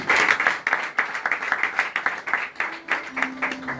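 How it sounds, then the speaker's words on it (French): A church congregation applauding at a pastors' consecration service, with dense, continuous clapping from many hands, loud and close, over a faint voice near the end. "Applaudissez pour vous-même."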